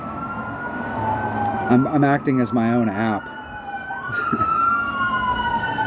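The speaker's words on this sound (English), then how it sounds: "the ambulance is coming after me" A wailing ambulance siren from the Golf Clash video game rises and falls in a warbling sweep over steady background game sound, with a person talking over it.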